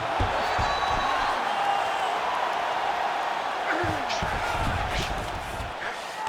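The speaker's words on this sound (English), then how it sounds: "big pop from the crowd as they get back to their feet" An arena crowd roars in a UFC video game fight simulation, a broad sustained swell of cheering that lasts throughout, with basketball-like thuds and a commentator talking over it.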